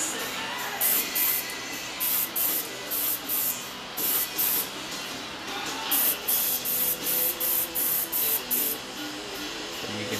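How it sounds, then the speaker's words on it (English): Clear coat paint sprayed in repeated short bursts of close, loud hiss separated by brief pauses, with a steady background hiss throughout. "I'm gonna try to minimize how long I spray without a respirator here"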